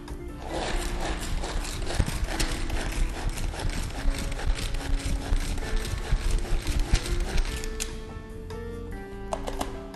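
Tupperware chop-in prep chopper being pulled to chop garlic and fresh ginger, producing a dense, rapid clattering and whirring of plastic blades, close and continuous for about ten seconds.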